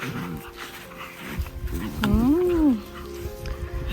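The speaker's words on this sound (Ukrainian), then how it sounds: "собаки доріють вже" A dog barks and whines, with a drawn-out rising and falling howl in the middle, while someone talks nearby.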